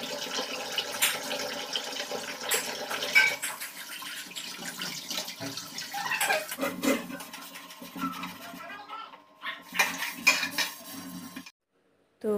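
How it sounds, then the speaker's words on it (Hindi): Dishes, cutlery and pans clatter and clink under running tap water at a kitchen sink, a busy, continuous washing-up sound with occasional louder knocks, ending in a brief pause. "बर्तन तो सारे हमने धुल लिए हैं"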